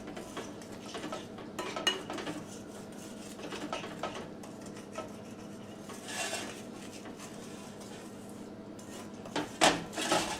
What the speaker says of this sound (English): Just stir this mixture up.